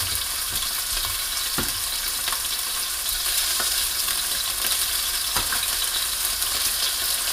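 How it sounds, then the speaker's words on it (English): Steady, close sizzling of chicken frying in a hot pan for jambalaya, a continuous crackle with occasional sharper pops and spits throughout. "That's got a nice little sizzle to it. So I'm going to go ahead and place my chicken in."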